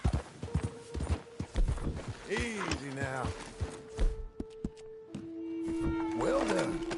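Hooves clopping in Red Dead Redemption II, intermittent and fairly close, with a voice talking over them and a horse snorting or whinnying in between.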